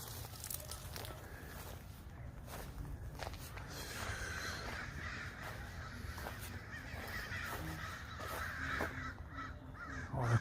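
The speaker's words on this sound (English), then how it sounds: "All the crows roosting." Crows cawing as they roost in a cemetery. Many harsh caws repeat from several directions at a middle distance over a steady outdoor ambience, with faint footsteps and a few low background voices.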